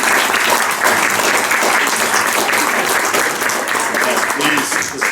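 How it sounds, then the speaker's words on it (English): Audience round of applause at an improv comedy show, steady close clapping sustained for the whole five seconds and fading slightly at the end. "Come on up, give a round of applause"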